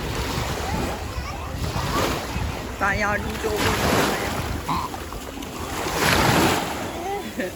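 Waves wash and surge steadily with wind buffeting the microphone as a person speaks briefly over the sea noise.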